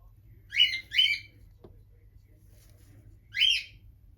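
Pet birds in a cage give three sharp squawks, a quick pair close together then a single call after a pause, loud against a quiet room with a low hum.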